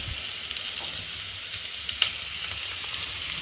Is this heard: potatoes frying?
yes